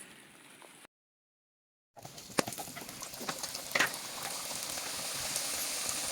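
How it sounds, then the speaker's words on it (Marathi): Sanjurya sweets frying in oil over a wood stove, a dense close crackle and bubbling hiss resuming after a brief silent gap, with sharper pops scattered through. "आता मी त्या मस्तपैकी तेलामध्ये तळत आहे"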